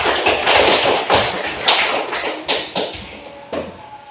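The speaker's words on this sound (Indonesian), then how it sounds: "kita berikan aplaus kepada kelompok 2" Scattered applause in a classroom after a student discussion group presents: dense, uneven clapping with sharp individual claps that thin out and fade over a few seconds.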